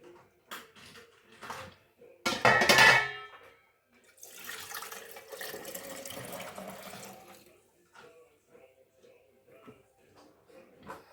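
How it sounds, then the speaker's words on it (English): Broth is poured from a measuring cup into a jar, giving a brief louder splash and trickle followed by a longer, softer stream of liquid, with light clinks of glass nearby. "instead of just pouring the broth into the jar, I like to measure it out"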